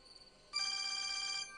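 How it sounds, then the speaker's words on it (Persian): An electronic telephone ringer starts with a faint tone, then breaks into a bright, steady trill. The ring is fairly loud and close, lasts about a second and sounds alone. "نجیب تلفن دارد."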